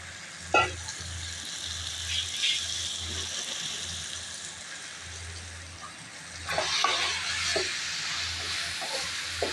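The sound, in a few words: chicken sautéing in pan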